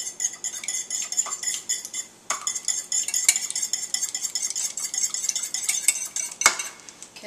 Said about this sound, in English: I'm going to whisk up two large eggs.